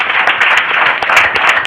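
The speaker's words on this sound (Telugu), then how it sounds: "గట్టిగా చప్పట్లు కొడదాం" A church congregation claps loudly together, a dense, steady wash of hand claps that fills the whole moment with no voices on top.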